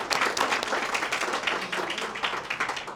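Conference audience applauding a priest, a steady patter of many hands clapping at moderate distance, moderately quiet and continuous for a few seconds with no talk over it.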